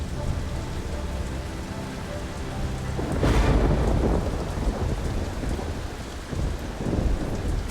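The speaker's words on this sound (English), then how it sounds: "winds and heavy rain thrash the city in the warm tropical air" Tropical thunderstorm over a city with heavy rain and wind: a dense roar of rain with a loud rumble of thunder rolling in partway through, continuing under the downpour.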